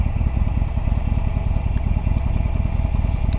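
A Harley-Davidson cruiser motorcycle rumbles loudly and steadily close by while being ridden, its low engine pulsing in a fast even throb with no speech over it.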